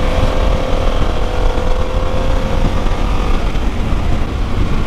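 A Harley-Davidson Pan America 1250 Special V-twin motorcycle engine drones loud and steady at high revs while riding, a dense continuous roar mixed with rushing wind and no talking.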